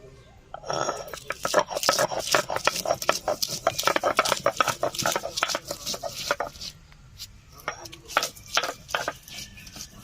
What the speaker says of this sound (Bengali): কাঁচা লঙ্কা বেটে নিচ্ছি